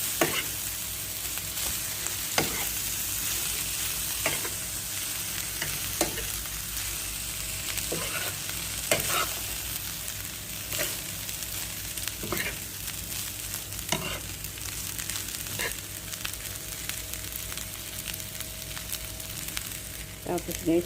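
Homemade fried rice stirred and mixed in a frying pan, a continuous sizzle broken by regular scrapes and clacks of the utensil against the pan, close and steady.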